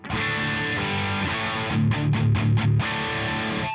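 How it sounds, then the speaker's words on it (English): Distorted electric guitar played through a Mesa M-2 Lead amp model on a Headrush unit with the master volume pushed, a few sustained chords and then a burst of rapid chugging palm-muted hits, loud and alone. "if you push the master, you are getting more power amp distortion"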